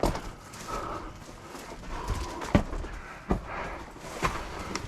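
Horse hooves clop unevenly over rough ground, a few sharp knocks standing out against a faint outdoor background.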